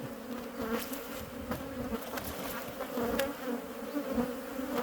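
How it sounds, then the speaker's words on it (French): A dense, steady drone of many honeybees buzzing close by, with occasional soft knocks and clicks underneath. "je vais prendre les abeilles."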